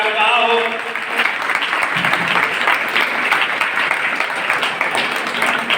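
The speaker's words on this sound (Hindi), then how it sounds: "जोरदार हाथ बजाइए, तालियां बजाइएगा" Dense, sustained applause from an audience at an annual report ceremony as an award recipient is called, a loud continuous patter with a voice briefly heard at the start.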